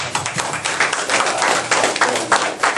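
Audience applause at a mind-healing seminar for small business owners: dense, steady clapping from a room full of people, fairly loud and continuous throughout with no voices on top.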